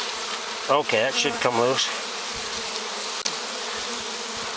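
Honey bees buzz steadily and loudly up close during a colony cutout in Monument Valley, a dense hum running throughout while a person speaks briefly over it.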